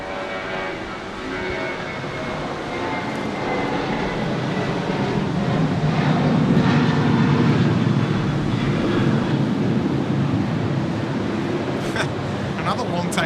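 A Qantas Boeing 737-800 makes its takeoff roll on runway 34 left at Sydney Airport in heavy rain, a steady broadband jet roar that swells and holds over the hiss of rainfall.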